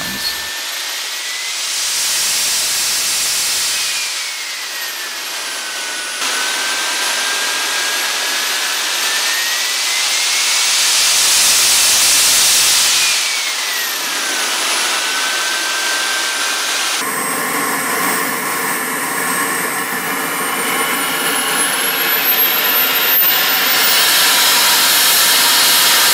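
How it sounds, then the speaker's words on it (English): A Wren model jet turbine engine, a small 10 kilogram (22 pound) thrust unit, runs loud and close with a steady roaring hiss and rising, falling whine as its speed changes, alone without talk. "is now available as a 10 kilogram 22 pound thrust engine"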